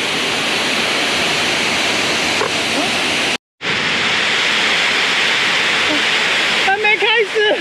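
A steady, loud roar of rushing water pours from a waterfall down a rock wall in a Taiwanese mountain gorge, broadband and continuous, briefly cut out once, with a voice chattering faintly near the end.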